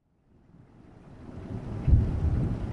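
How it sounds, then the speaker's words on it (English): Thunder cracking during a night storm over a distant castle landscape: a low rumble swells out of silence, then a heavier crack lands near the two-second mark and keeps rolling loudly to the end. "With each crack of thunder and spear of lightning, the gigantic, fleshy structure was silhouetted in the shadows."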